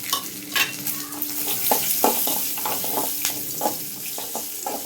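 Onion, garlic and ginger sauté for a crab gravy, a steady close sizzle with repeated spatula scrapes and stirring strokes against the pan.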